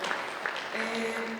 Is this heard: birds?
no